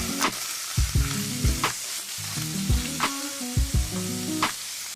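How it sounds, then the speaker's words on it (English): Ground beef being stirred with yellow mustard and relish in a hot pan, sizzling steadily up close while a utensil scrapes and knocks against the pan in repeated strokes. "Now we're going to mix it until it's well combined"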